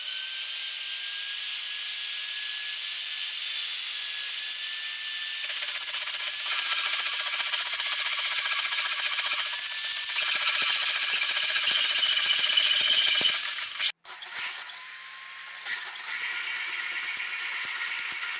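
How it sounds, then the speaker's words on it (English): Power tools work sanitary steel pipe, a plasma cutter and then a flap wheel: a loud, continuous close-up grinding hiss with a faint whine that shifts in pitch, broken by a brief pause near the end before resuming. "use the plasma cutter to cut it close, and then we'll go ahead and use a flap wheel to get it exactly where we want it"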